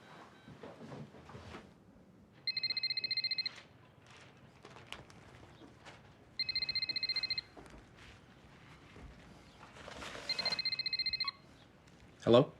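A telephone call being placed: three bursts of ringback tone about a second long each, spaced evenly, with quiet clicks and handling noises between and a short loud thump at the end.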